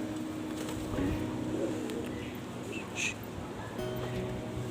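A female Kalanka Dobaj pigeon with white wings gives low, soft coos, a brief burst near the middle and again toward the end, over a quiet, steady outdoor background.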